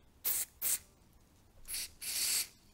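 Lubricant sprayed from an aerosol can through a straw into a motorcycle cable, heard as four close hissing bursts: two short quick ones, a pause, then a medium and a longer spray, with no talking.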